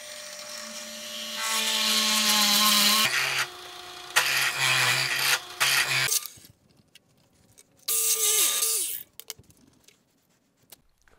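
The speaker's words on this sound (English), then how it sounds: "next step, we're drilling with a 1 1/4 inch spade bit." A drill press bores into a wood block with a 1 1/4 inch spade bit, a loud whirring grind in several long bursts that shift in pitch, with quiet gaps between them.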